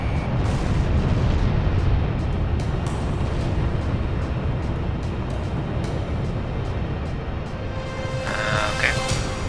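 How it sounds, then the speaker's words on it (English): Missile launch and explosion in the Ace Combat flight combat video game, a loud continuous roaring blast with heavy low rumble filling the whole stretch, and a brief higher electronic tone near the end. "Launching missile."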